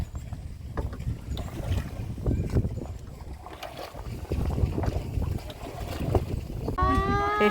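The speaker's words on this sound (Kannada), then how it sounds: "ಕಯಾಕ್ ರೈಡ್ ಇದು ನೋಡಿ." A kayak moving across Pookode Lake in Wayanad, with soft paddle splashes and water lapping under steady wind noise, and a faint voice briefly audible.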